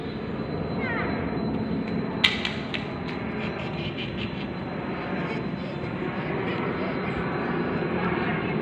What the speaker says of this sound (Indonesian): Pesawat tuh.